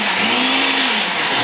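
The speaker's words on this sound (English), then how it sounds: "we're going to just blend them up and put them in the mix" A blender runs continuously on pancake mix ingredients, a loud, close, unbroken whirring drone with a slight dip in pitch partway through and no voices.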